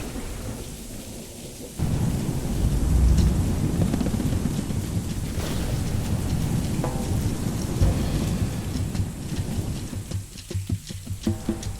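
Night thunderstorm at a safari lodge, with steady heavy rain drumming on surfaces and low rumbles of thunder rolling through, the downpour swelling loud after a quieter start and easing near the end.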